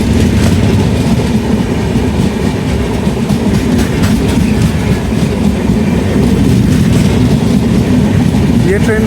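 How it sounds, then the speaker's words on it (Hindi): The Tripura Sundari Express, running from Ferozpur to Agartala, passes close by, a loud continuous rumble and rattle of rolling wagons with rhythmic clickety-clack of wheels on rails, sustained at full strength throughout. "त्रिपुर सुंदरी फिरोजपुर से अगरतला के लिए चलने वाली ट्रेन यहाँ क्रॉस करते हुए हमसे।"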